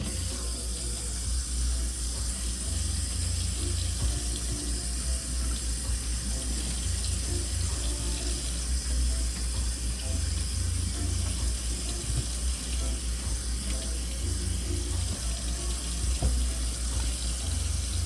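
Tap water runs steadily into a kitchen sink as salad vegetables are given a second rinse, a continuous close splashing flow with no talking.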